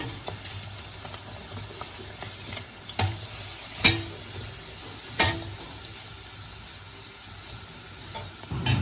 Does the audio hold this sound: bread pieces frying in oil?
yes